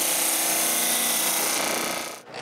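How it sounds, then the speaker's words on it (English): A piece of walnut molding is sanded with a power tool, giving a continuous loud, broadband whir that dips briefly near the end. "I measure the gap and sand the piece that I mangled a bit while doing the OG."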